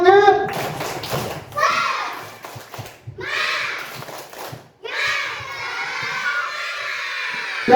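A first-grade class of children at an Indonesian elementary school chant and clap in rhythmic bursts, loud shouted voices alternating with sharp claps and short pauses, close and energetic.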